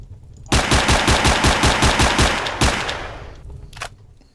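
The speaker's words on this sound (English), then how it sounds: "the shooting is obnoxiously loud as well, and the recoil is very strange" Loud, rapid automatic gunfire from the Dead Hospital zombie shooter hammers out a steady burst of about a dozen evenly spaced shots, then cuts off and leaves a ringing decay with a couple of softer trailing clicks.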